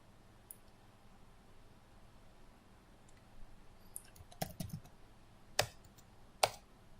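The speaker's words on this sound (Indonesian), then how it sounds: "kita ketikkan di sini root, root, password yang kita buat tadi" Computer keyboard typing while logging in as root on a Debian server: faint, sparse key clicks that gather into a few sharper taps toward the end, quiet and close with no talking.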